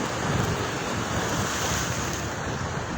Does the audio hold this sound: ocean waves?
yes